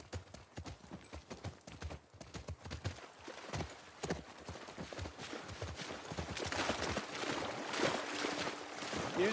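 Rhythmic clip-clop of horse hooves walking at an even pace in the video game The Last of Us Part II, close by, with a faint whinny and background ambience toward the end.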